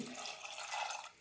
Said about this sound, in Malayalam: വേവാനുള്ള വെള്ളം കൂടി ഒഴിക്കാം